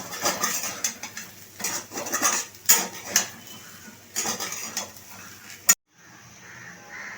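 Spoon scraping and clinking against a cooking pot as curry is stirred on a gas stove, a close series of irregular metallic knocks and scrapes that stops abruptly, leaving a faint hiss.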